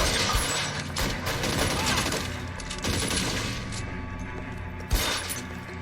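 Gunfire in the video game L.A. Noire during a shootout: dense bursts of rapid shots and sharp cracks, loud and close, with one hard impact near the end and no voices.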